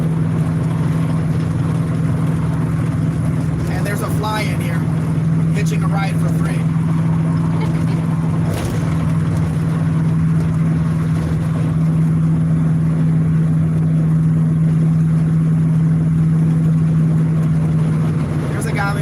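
A 1969 Dodge Dart GTS with a stainless steel glass pack exhaust cruises along a highway through agave fields in Jalisco, Mexico, its low engine drone steady and close throughout while someone talks over it.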